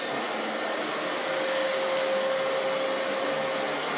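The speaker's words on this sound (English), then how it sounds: "Cats don't seem to like the vacuum, needless to say." A household vacuum cleaner running steadily and loudly nearby, a constant whooshing roar with a faint high whine, no breaks for the whole stretch.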